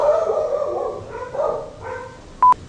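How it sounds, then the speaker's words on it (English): A dog barks and howls in several drawn-out bursts, moderately close, followed by a brief sharp tonal beep near the end. "Gizmo was barking at some people walking by"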